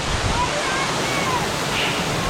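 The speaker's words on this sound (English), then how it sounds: "I think we found it. The secret waterfall." Steady broadband rush of a hidden waterfall reached on a hike, a continuous loud wash of falling water filling the scene with no breaks.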